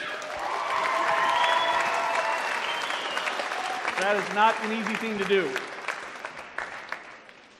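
Pageant audience applauding on stage night, a dense wash of clapping filling most of the clip, with a presenter's voice talking over it toward the end as the applause fades.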